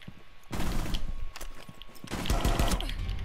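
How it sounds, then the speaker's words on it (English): Automatic gunfire in the Rainbow Six video game, in rapid bursts of rattling shots with a brief pause between two loud volleys and some mechanical clatter. "I shot him with so many bullets in the back"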